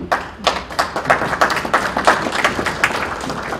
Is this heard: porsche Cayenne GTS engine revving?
no